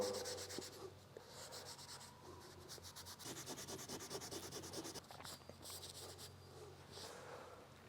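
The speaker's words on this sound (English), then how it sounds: "take a dab of Colonite and you just start wiping it on" A rag rubs Colonite wax onto a metal tool top in a workshop, a soft continuous swishing and scrubbing with rhythmic back-and-forth strokes, close and quiet.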